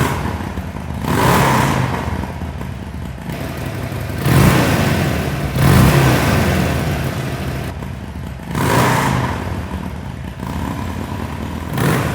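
Harley-Davidson Sportster Iron 1200 fitted with an S&S Super Street 2-into-1 exhaust, revved in repeated swells that rise and fall about every few seconds over a rumbling idle, close and loud.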